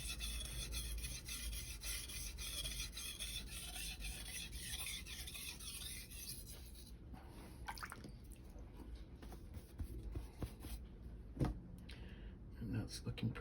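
A knife scraped back and forth on a wet Naniwa 1000/3000 grit combination whetstone, giving a steady rasping stroke that fades into quieter, intermittent scrapes and drips partway through.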